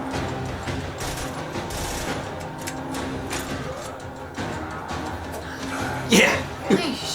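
Gunfire rattles in bursts from a Metro Exodus cinematic trailer fighting mutant monsters, moderately loud amid trailer music and effects, while a person talks and reacts over it.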